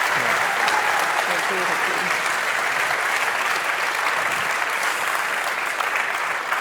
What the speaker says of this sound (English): mag ik een heel groot applaus voor Ellie?